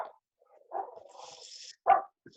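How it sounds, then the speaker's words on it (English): Dogs scuffle and bark, with a short opening bark, a rough growling snarl with a higher whine, then a sharp loud bark near the end, set against near silence. "Who's having a dog fight?"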